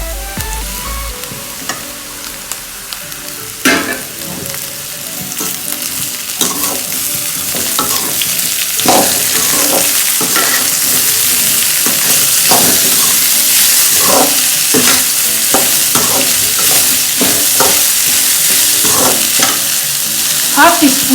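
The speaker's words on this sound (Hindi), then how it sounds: "अभी हम भिंडी मिक्स कर रहे हैं." Okra stirred and fried in a pan gives a loud, continuous sizzle broken by repeated scrapes and knocks of a spoon against the pan. The sizzle swells after a quieter start, and no voices are heard.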